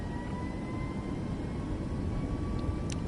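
Jet airliner engines at takeoff power in Microsoft Flight Simulator: a steady, loud rumbling roar with a faint high whine held throughout, no talk.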